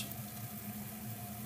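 Coffee brewing in a moka pot, a steady low gurgling and hissing bubble as the brew rises, faint and continuous with no talk.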